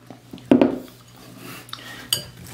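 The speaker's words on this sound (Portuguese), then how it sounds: "E vamos misturando aqui com o fuê" Whisk mixing wheat flour in a bowl for bread dough, a clattering knock against the bowl followed by lighter scraping and a sharp metallic clink.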